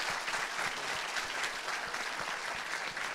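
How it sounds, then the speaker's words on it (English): An audience claps steadily and densely for a panel at a fireside chat event, a continuous crowd applause with no talk over it. "Can I have a round of applause"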